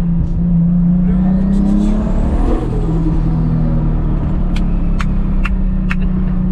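A Pagani supercar engine rumbles and revs up, then settles back to a deep growl, with a few short sharp clicks near the end.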